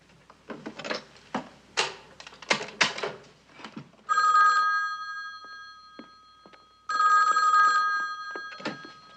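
An old desk telephone rings twice with long, loud metallic bell trills separated by a pause, following some brief tapping and clicking of dialing at close range.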